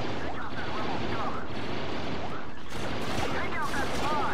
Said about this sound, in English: I'm holding both buttons down, you're seeing a bunch of shots.